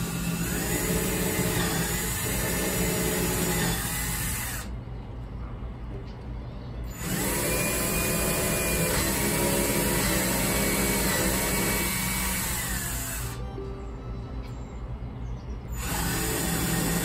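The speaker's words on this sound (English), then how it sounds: "I'm just going to drill pilot holes so that once I go to attach this, it will actually go in a lot smoother." A power drill boring pilot holes into privacy fence boards, a steady loud whirring drone that runs continuously, breaks off briefly twice, then starts up again.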